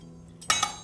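Metal cutlery clinks twice as someone rummages through kitchen utensils for a knife, two short bright clatters close by in a quiet kitchen.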